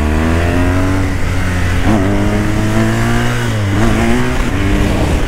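A BMW R1200 motorcycle engine revs loudly and close while weaving through traffic, its pitch climbing, dropping briefly twice and rising again as the throttle is worked.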